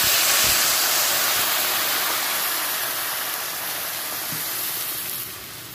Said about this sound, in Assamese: এতিয়া পানী দি দিলোঁ।